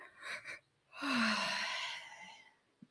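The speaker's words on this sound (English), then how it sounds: "I start to feel that yawning coming on." A single drawn-out yawn, breathy and rising then fading, after a short inhale, close and fairly quiet.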